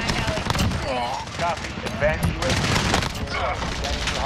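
Attack helicopter gunfire in a Modern Warfare match: rapid bursts of automatic fire rattle over the battlefield while a player talks over the shooting.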